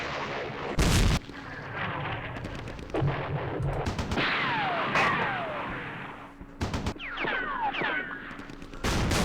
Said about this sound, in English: So let's see if we can survive the artillery